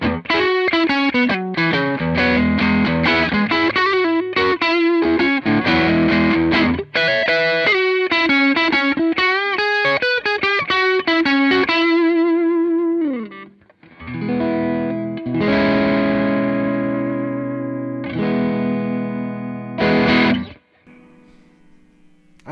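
An electric guitar runs through a Wampler Moxie overdrive pedal, loud and close, first a busy run of bright single-note licks, then a pause and several ringing sustained chords that fade out near the end.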